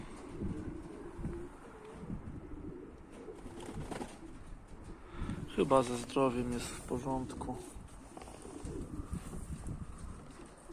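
Young pigeons coo softly nearby while someone talks over them, their low burbling calls rising and falling throughout.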